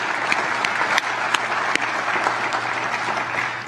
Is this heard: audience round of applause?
yes